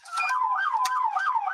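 An LAPD police car siren wails on a call through city streets, loud rising and falling sweeps repeating in a steady cycle.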